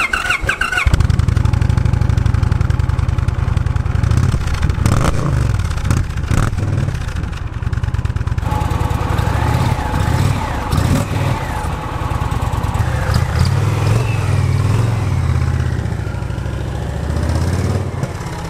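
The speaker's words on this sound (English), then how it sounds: "you have this kind of high-pitched whirring noise in the top end that sounds very similar to some four-valve per cylinder metric bikes" An Indian Challenger Limited motorcycle engine idling and revving nearby, a steady throbbing rumble with a high-pitched whirring from the top end, rising and falling through several blips of the throttle.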